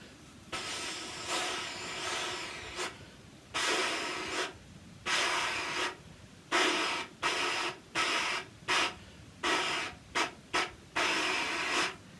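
Breathy, airy flute notes articulated into a series of short separated bursts of varying length, close and fairly loud, with brief gaps between them.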